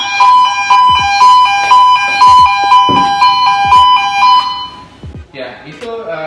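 A Honeywell RAE gas detector sounds its alarm after exposure to H2S test gas: a loud, rapid repeating electronic beep pulses steadily for about five seconds, then stops as a voice starts speaking.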